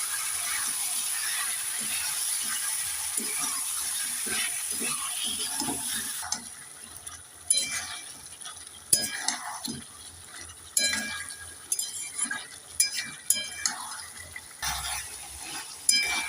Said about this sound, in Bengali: মশলার সাথে চিকেনটাকে তিন চার মিনিট ভালোভাবে কষে নেব